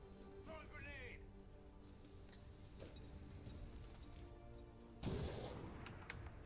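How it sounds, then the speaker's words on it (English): A grenade thrown in XCOM 2: Long War of the Chosen on Legendary difficulty bursts into one loud, close blast about three-quarters through, rising over a steady bed of game ambience and faint chatter. "Throwing grenade."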